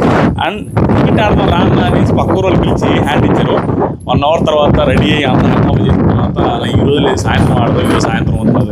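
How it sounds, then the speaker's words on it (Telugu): Strong outdoor wind buffets the microphone as a low, steady rumble beneath almost continuous close talking, with one brief dip in the middle. "ఎంత దారుణమైన గాలి వస్తుంది"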